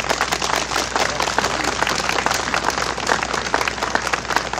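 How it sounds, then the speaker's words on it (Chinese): An audience at a Hualien County Government personnel appointment ceremony claps in a dense, even patter of many hands, sustained at moderate loudness with no voices over it. "请给他掌声一下"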